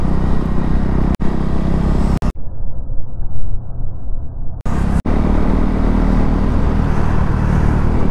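A KTM Duke 390 motorcycle's exhaust roars loudly up close, with a sudden drop to a muffled rumble midway before the full roar returns.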